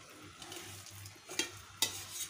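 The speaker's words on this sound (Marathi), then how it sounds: "चांगलं परतून घ्यायचं आता हे भात." Indrayani rice is stirred and sautéed in a tawa pan for a simple pulao: a faint, steady sizzle with soft scraping of the spatula and two sharper metallic clicks against the pan, with no voices.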